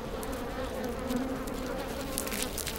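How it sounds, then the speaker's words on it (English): Native Japanese honeybees hum steadily at their nest inside a hollow tree, a close, continuous low droning buzz with faint higher wingbeat flickers and no voices. "These two are honeybees. They made their hive in a hollow tree."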